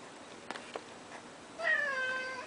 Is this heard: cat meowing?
yes